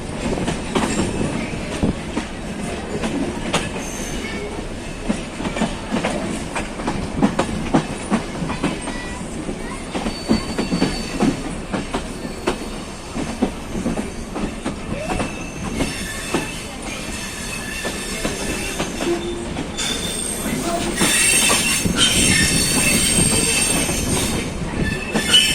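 A train rolls into Dhaka railway station in Bangladesh, wheels clacking and squealing steadily over rails, loud and close throughout with rising screech toward the end, no voices.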